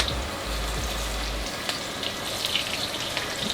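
Pieces of deer heart frying in oil that is a little too hot, a steady loud crackling sizzle close up that runs throughout with no talk.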